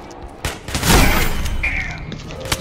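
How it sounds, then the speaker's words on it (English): Missile volley striking a ship in the Aliens: Colonial Marines game, a loud close blast rising into a rumbling boom that rolls on for over a second, with a faint voice-like tone in the background. "A second volley of missiles just struck the Sephora"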